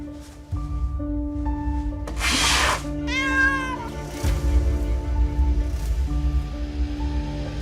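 A cat gives one clear, wavering meow partway through, heard over a soft orchestral music bed with a brief rustle nearby.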